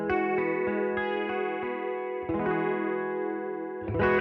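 Electric guitar played through a British crunch-style amp with chorus, a slightly driven, shimmering tone as a series of picked notes and chords sustain and overlap, heard alone.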